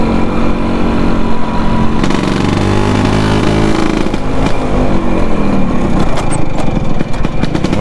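An older Vespa scooter engine droning loud and close while being ridden at night in Malaysia, its pitch rising and falling through shifts and throttle changes, with no talk over it.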